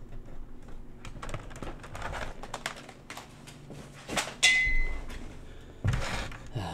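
Clacking keystrokes on a PC-98 computer keyboard, an Epson PC-486GR setup, come in quick irregular bursts up close, with a few louder knocks along the way and no talking.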